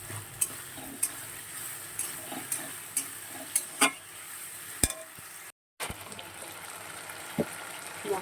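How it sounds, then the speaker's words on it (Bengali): Spice paste frying in a pan as it is stirred, a soft steady sizzle broken by regular scraping knocks of the spoon roughly once a second, close by, with one brief dropout. "মশলাটা ভালো করে কষিয়ে নেব।"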